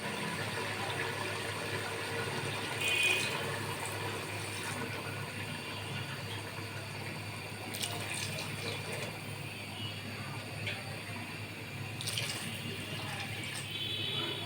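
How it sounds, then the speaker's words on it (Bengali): Three cups of water pour onto beef in a cooking pot, a faint, steady splashing trickle with a few light metallic clinks, quiet and close. "এখন আমি মাংসটাতে দিয়ে দিচ্ছি 3 কাপ পরিমাণ পানি।"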